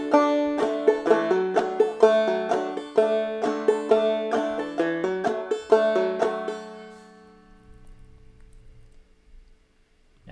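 Clawhammer banjo picks out a bar of Logan County Blues, with bright, rhythmic plucked notes ringing close and clear, then the strings fade out, leaving near silence.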